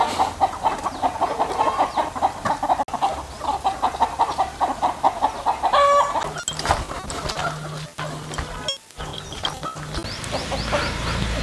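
Native country chickens, a mother hen with small chicks, two- to three-month-old young birds and a year-and-a-half-old hen, cluck loudly and close by in a rapid, rhythmic run, then give scattered calls and thumps.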